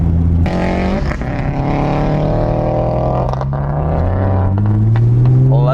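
A Nissan GT-R pulls hard from inside the cabin, its engine and exhaust drone rising through the gears. The tone is loud and continuous, with brief breaks at each shift, and no one speaks over it.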